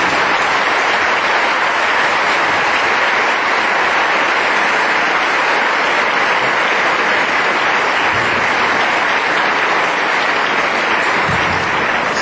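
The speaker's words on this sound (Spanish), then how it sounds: "Le damos un cariñoso aplauso." A large audience at a Catholic church consecration celebration in Quintana Roo applauds, a loud, dense, sustained clapping that fills the whole stretch without letup.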